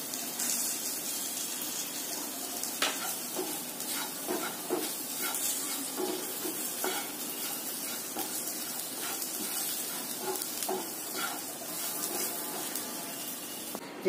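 Chana dal and spices fry in oil in a pan for tomato kuzhambu, a steady close sizzle dotted with sharp crackles and pops.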